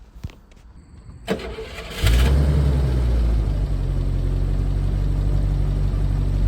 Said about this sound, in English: So here we go with the startup.